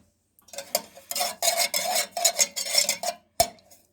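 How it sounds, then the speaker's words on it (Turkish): A spoon stirs menengiç coffee in a pot on a stovetop, giving a close series of uneven scraping and clinking strokes against the metal, with a sharper knock near the end. "Bunu da kısık işte eriyene kadar böyle karıştıra karıştıra yapacağız."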